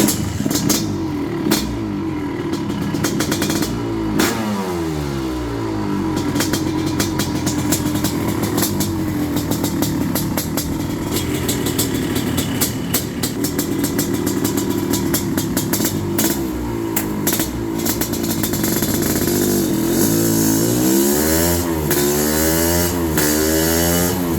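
A Honda CR500R two-stroke motorcycle engine runs on a dyno, loud and close, revving repeatedly with rising and falling pitch sweeps and sharp popping, without speech.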